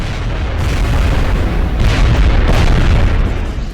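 Sniper rifle shot in XCOM: Enemy Unknown, a dense booming blast with a heavy low rumble, sustained loud and close through the clip with no talking.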